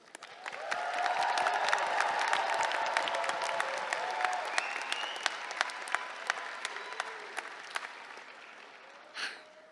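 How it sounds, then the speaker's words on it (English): A graduation crowd at a commencement ceremony breaks into applause and cheering, swelling quickly to a full, dense roar of clapping that stays strong, then gradually thins, with a brief burst of noise near the end. "a round of applause for all of you graduates."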